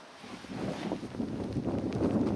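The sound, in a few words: strong wind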